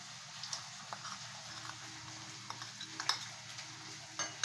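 Spoons of ground coriander, cumin, dried chilli, black pepper, red chilli powder, salt and turmeric are stirred into yogurt, with soft scraping and clicks against the bowl, faint and close, with no talk.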